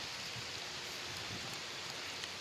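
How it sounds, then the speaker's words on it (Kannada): Rain falls outdoors as a steady, even hiss of drops, dense and unbroken throughout with no voices. "ಮಳೆ ಬರ್ತಾ ಇದೆ"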